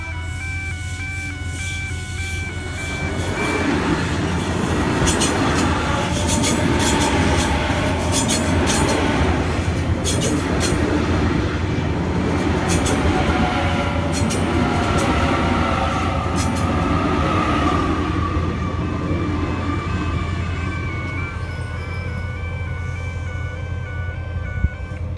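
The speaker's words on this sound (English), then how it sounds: "We have a Waratah approaching East Richmond's platform." A Sydney Trains Waratah electric train pulls into the East Richmond platform on the Richmond branch, its loud, steady rumble building and holding, with high wheel squeals and clatter over the tracks.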